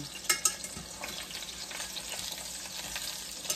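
Pork chops searing in a pan, a loud close hiss and crackle of fat running steadily, with a couple of sharp clatters early on and no talking.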